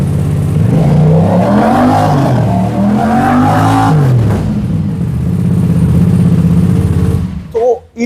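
A 2019 motorcycle with about 3,000 km on it, heard up close at the exhaust, revs loudly in repeated rising and falling surges, then holds a steady roar before cutting off, with voices nearby.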